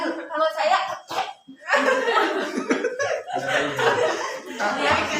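People practise an effective coughing technique, giving several deliberate coughs in short bursts mixed with laughter and chatter, all close and fairly loud.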